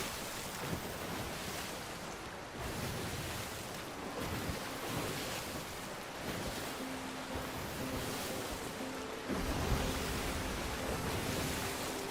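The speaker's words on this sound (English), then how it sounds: "Ah, the gentle waves of the sea breeze." Ocean waves surge and wash in Sea of Thieves, a continuous broadband roar of surf with wind, swelling and receding in slow rolling pulses, loud and near with no talk.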